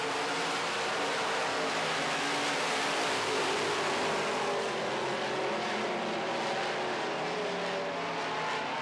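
Midwest Modified race cars roar around a track at a race, their engines a dense, continuous loud drone with no clear passes standing out.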